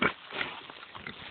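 Pigs on a farm grunting softly up close, a few short low snorts spread across a brief, quiet moment.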